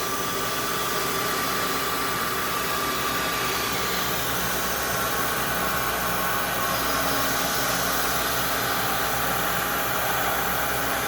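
In a wooden flute workshop, a precision milling machine cuts the ramp into a flute's windway, producing a continuous, loud, even whirring roar with a faint motor hum beneath, steady from start to finish and free of speech.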